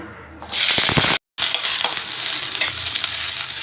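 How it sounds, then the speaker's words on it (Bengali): Loud, steady sizzling of drumstick pieces frying in oil, with a brief cut partway and stirring clatter, close by. "অল্প একটু তেল দেব, ডাঁটাগুলো হালকা একটু ভেজে নেব"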